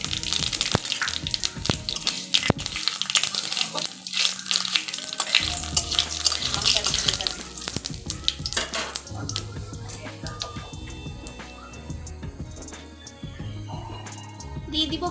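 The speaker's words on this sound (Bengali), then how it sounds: "প্রথমে আমি তেলে দিয়ে দিব তেজপাতা, তারপর দিয়ে দিব এখানে গোটা সাদা জিরে" Bay leaf and whole white cumin seeds frying in hot oil in a pan, giving a steady crackling sizzle with clattering utensil knocks and some running water.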